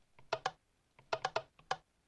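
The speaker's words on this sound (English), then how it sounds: "It makes clicking noises!" Sharp mechanical clicks from a lever in a modded Minecraft-style game, arriving as two quick pairs and then a loose cluster of four, close and distinct with quiet between them.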